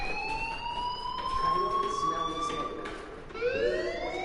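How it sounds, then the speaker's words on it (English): Fire alarm in the game Life is Strange, a loud wailing siren tone that rises and repeats in long sweeps, close and continuous over low background noise. "do you hear that fire alarm? That means you should be outside."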